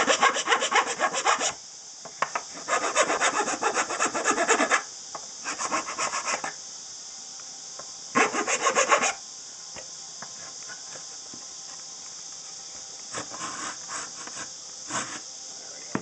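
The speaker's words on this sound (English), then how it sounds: "you're going to sand some on the neck as you go" A resonator ukulele's wooden neck is sanded by hand in several rasping bursts of back-and-forth strokes, close and steady, separated by pauses with a faint background hum.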